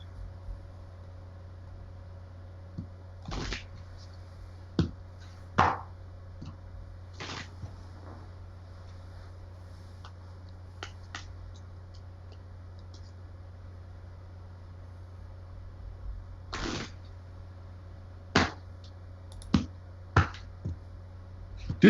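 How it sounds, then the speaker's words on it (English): Standard casino-style card shuffle performed by hand: scattered short riffling bursts and snaps over a quiet, steady hum, with a few louder shuffles clustered near the end. "This is pretty much a very standard shuffle and what used in most casinos."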